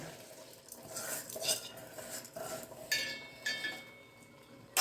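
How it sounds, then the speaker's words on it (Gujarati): Soaked basmati rice being tipped into a pan and stirred for a spinach-paneer pulao, with repeated metallic scrapes and clinks of a spoon against the pan, a light sizzle underneath, and a sharper clink at the end. "હવે આ વીસ મિનિટ પડેલા બાસમતી ચોખા હતા તે આપણે અંદર એડ કરી દઈએ"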